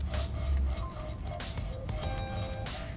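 A thick bristle brush scrubs brake dust off a car wheel rim, rapid rough back-and-forth scratching strokes, close and steady with short pauses between strokes.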